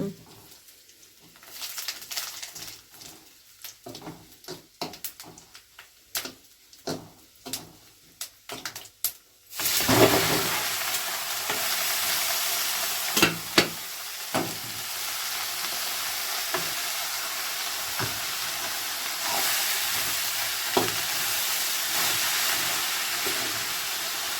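Tempering spices with curry leaves and turmeric hit hot oil in a pan, and a loud sudden sizzle bursts out after some scattered clinks. Steady frying hiss then continues close by.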